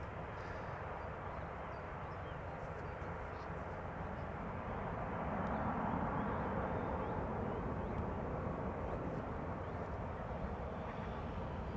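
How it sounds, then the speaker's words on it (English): A Delta Air Lines Airbus A330neo at Amsterdam Schiphol, its engines spooling up into a deep steady roar that swells a little midway, heard from a distance and continuous throughout. "Delta Airlines up next, going to Salt Lake City, A330neo. It's already spooling up."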